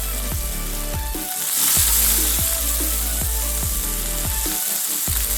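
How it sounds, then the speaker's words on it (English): Steak sizzles loudly in a pan of butter, rosemary and oil, a dense crackling fry punctuated by regular soft thumps, steady and close throughout. "Let's grill a delicious steak. Add butter, add rosemary, and add meat cooked in oil."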